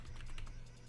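A computer keyboard is typed on in a short burst of soft, quick keystrokes, faint and close, entering a coupon code in a mobile game.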